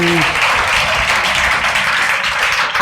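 A church congregation claps and cheers in praise of God, a dense, loud wash of applause filling the space with murmured voices underneath.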